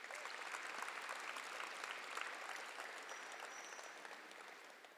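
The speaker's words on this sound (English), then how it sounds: "Please give your parents a round of applause." A banquet audience applauds parents at an awards night, with steady, dense clapping that holds evenly for about five seconds and is moderately close, with no voices standing out.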